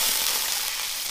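Seasonings and hotpot base stir-fried in a hot wok, a loud, dense, continuous sizzle heard close up with no talking.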